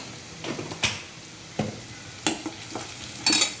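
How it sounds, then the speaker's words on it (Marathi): Radish greens sautéing with red chili powder in a pan: a low sizzle broken by several sharp scraping strokes of a spatula stirring against the pan, irregularly spaced and close, with no voices. "आणि हे पण असं परतून घेऊया व्यवस्थित"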